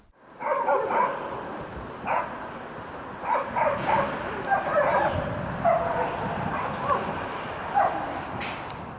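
Several service dogs, including a German Shepherd, bark in scattered bursts during mine-detection training, over a steady outdoor background, some barks sharper and nearer than others.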